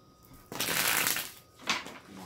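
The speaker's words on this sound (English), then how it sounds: "One more shuffle, please." Tarot cards shuffled by hand in two bursts: a long riffling rush followed by a shorter flurry, close and fairly loud, with no talking.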